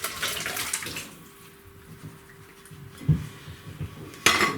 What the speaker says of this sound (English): now I'm going to transfer this into a bowl to cool it down